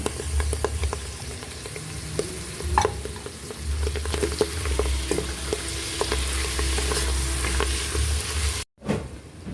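Ham frying in a pan for a carbonara, a continuous close sizzle with scattered crackles and pops and some stirring, which cuts out abruptly near the end.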